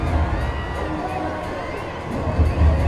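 Crowd at a cricket match cheering a boundary, a steady roar of hubbub with swells near the start and end, under a live commentary feel.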